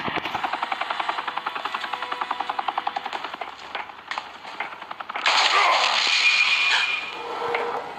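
Rapid bursts of gunfire from Batman: The Telltale Series during a bank robbery scene, a fast regular rattle for several seconds, then a louder burst of harsher, blasting noise toward the end.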